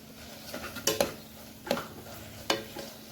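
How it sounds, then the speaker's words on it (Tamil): Tomato rice masala sautéing in a pan, with a few spoon scrapes and clinks against the pan over a low sizzle, close and fairly quiet with no talking. "எல்லாம் நல்லா வதங்கிருச்சு."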